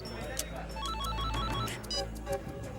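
A telephone rings in a crime drama, its repeating electronic bell tones sounding under music and dramatic background sound.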